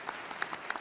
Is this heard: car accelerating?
no